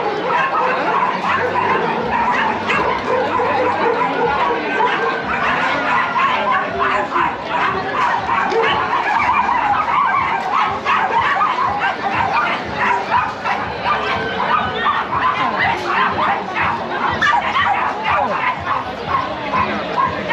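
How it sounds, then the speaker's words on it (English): Several dogs bark and yip continuously over a steady, noisy outdoor background at an agricultural fair in Sineu, Mallorca, with overlapping barks from more than one animal at moderate distance. "Dogs on the other side."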